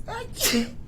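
A single person's sneeze during a conversation, a short gasping intake followed by a sharp burst, close and fairly loud against a quiet room.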